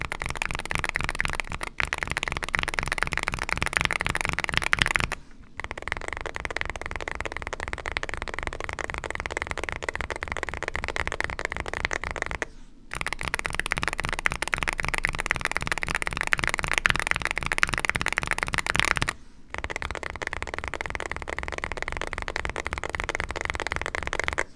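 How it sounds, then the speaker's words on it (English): Heavily used WASD keys on a Meletrix BOOG75 mechanical keyboard clatter in a rapid, continuous typing run, a dense stream of close clicks broken by two brief pauses. "here is a sound test from my WASD keys with a ton of usage over a whole month of dailying it"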